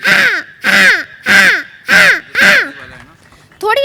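A human voice imitates a crow, giving five loud, harsh caws at an even rhythm, close up, with a brief different vocal sound at the end.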